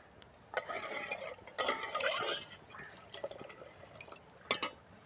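Wet, sticky stirring and squelching as flour is mixed with warm milk into dough for milk dumplings (paal kozhukattai) in a pot; short bursts, with scraping and the faint tap of a utensil against the side.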